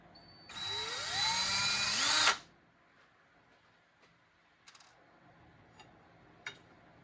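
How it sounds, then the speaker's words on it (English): A power drill whines for about two seconds while drilling a small pilot hole, its pitch climbing as it bites in, then stops, followed by a few faint clicks and taps. "You can drill a small pilot hole."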